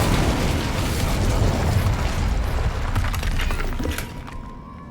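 The Incendio fire spell cast in Hogwarts Legacy, a loud roaring burst of flame with a dense rumbling rush that holds steady and then tapers off near the end.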